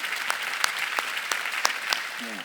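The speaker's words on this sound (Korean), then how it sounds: "하나님께 박수칩시다." Church congregation applauding during a Sunday worship service, a dense steady clapping wash with a few sharper louder claps standing out, fairly close and sustained throughout.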